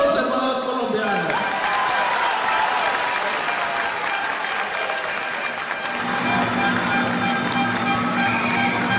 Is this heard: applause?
yes